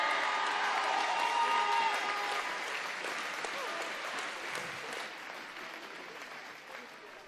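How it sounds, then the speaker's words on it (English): A crowd applauds and cheers for three female swimmers at a national open swimming championship in an indoor pool venue, sustained clapping that slowly fades, with faint voices underneath. "let's have a huge round of applause for all three of these girls"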